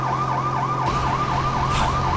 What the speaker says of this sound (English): Pull over, people. There's a freaking siren.